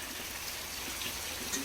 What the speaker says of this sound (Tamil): சரியான மழை ராம்நாட்டில்.